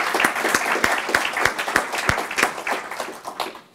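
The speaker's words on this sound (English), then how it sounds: "Please give Bob a big round of applause." Audience applause rising for Bob Greifeld as he is welcomed on stage at an NYU Stern speaker event, a steady dense wash of many hands clapping that holds loud throughout and thins slightly at the end.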